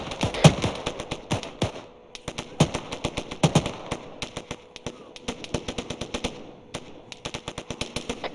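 Incoming gunfire in Arma 3, a long run of sharp cracking shots, some in quick machine-gun bursts and others spaced apart, fairly close and loud, with faint voices now and then.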